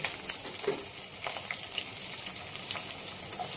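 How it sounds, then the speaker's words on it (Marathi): Curry leaves hit hot oil in a home kitchen pan, giving a steady close crackling sizzle with sharp spattering pops scattered throughout, no voices. "यात टाकते मी कढीपत्ता। कढीपत्ता टाकताना तर गॅस मंदच करायचा, नाही तर सर्व अंगावरती उडतं"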